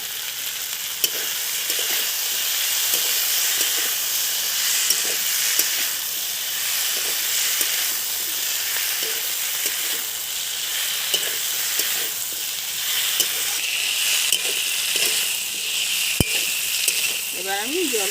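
Potatoes hiss and sizzle steadily in hot oil in a frying pan, with occasional stirring scrapes throughout; a loud, continuous frying sound with no talking.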